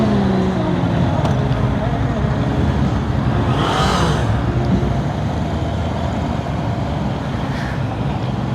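A Honda motorcycle fitted with e-Clutch accelerates hard on a test ride. A loud, steady engine roar blends with continuous wind rush throughout.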